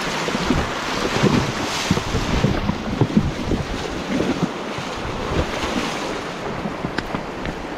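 Flooded river water rushes steadily while someone wades across it, a dense continuous roar with wind buffeting the microphone and occasional splashes, close and loud.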